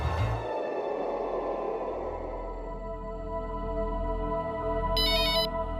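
An electronic phone ringtone tinkles with a sustained tone, ending in a bright, rapid chiming burst near the end.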